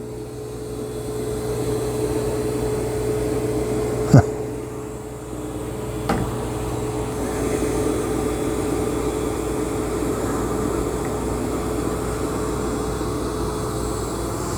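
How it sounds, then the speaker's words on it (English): A Roborock Saros 20 robot vacuum works over carpet with a steady, moderate motor hum and airflow whir. Two brief knocks interrupt it, and the hum continues evenly throughout. "I'd say it's actually vacuuming very good"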